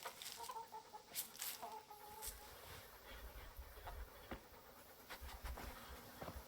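Chickens cluck softly while being fed in the video game Kingdom Come: Deliverance, quiet scattered clucks over a faint buzz of insects.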